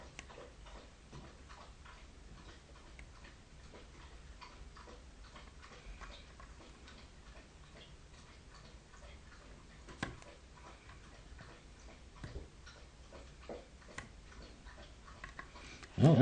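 Steady, faint ticking and clicking of a pick and tension wrench working the pins of a classic Master Lock No. 5 padlock, soft and close, with a few sharper clicks near the end.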